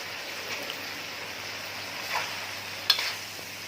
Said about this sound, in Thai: แล้วก็ผัดให้เข้ากัน สักแป๊บหนึ่งครับ